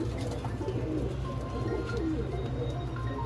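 A pair of Ferozpuri pigeons coo softly and repeatedly, with low, rolling calls set against a steady background hum.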